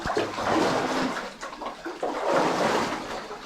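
Wading through water in a flooded abandoned mine: sloshing, splashing surges rise and fall in two broad waves, close and fairly loud, with no talking.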